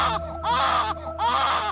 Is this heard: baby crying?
yes